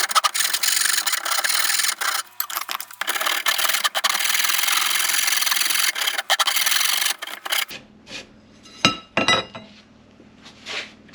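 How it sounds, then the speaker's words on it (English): A hand file rasps the corners of stake pieces for a cheap 4x8 Harbor Freight trailer in fast, steady, scratchy strokes for several seconds. The rasping stops, and a few sharp metallic clinks and taps follow in quieter surroundings. "we're having to file just a little bit off these corners so that they'll fit in the things."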